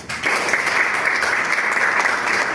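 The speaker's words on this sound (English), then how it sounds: "Give you a round of applause" Audience clapping at a Toastmasters club meeting after an evaluation, a short, even burst of applause at moderate volume with no talking over it.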